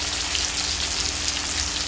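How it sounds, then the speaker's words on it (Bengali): Chopped tomato hitting onions already fried light red in hot oil, producing a loud, dense, continuous sizzle that holds evenly from start to finish. "পেঁয়াজটা হালকা লাল ভাজা হয়ে গেছে এবার আমি এতে দিয়ে দিব কুচিয়ে রাখা টমেটো"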